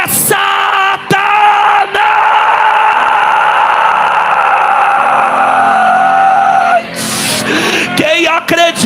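Church congregation shouting loudly in unison in response to a preacher, a sustained roaring crowd yell lasting several seconds, then breaking into scattered shouts and whoops.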